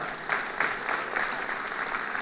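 An audience at the Jamhuri Day celebration breaks into applause, a steady wash of many hands clapping with slight swells, heard alone without talk.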